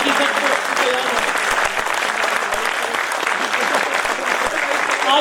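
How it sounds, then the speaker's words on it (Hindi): An audience at a Hindi kavi sammelan of comic poets claps for the poets: sustained, lively applause with close individual claps standing out and some voices mixed in. "एक बार पुनः कवियों के शानदार ताली,"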